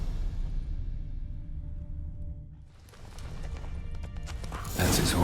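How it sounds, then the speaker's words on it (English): Horse hooves clip-clop in The Witcher 3 while the horse gives a whinny, set against a steady game ambience that swells into a louder burst near the end. "That's his horse."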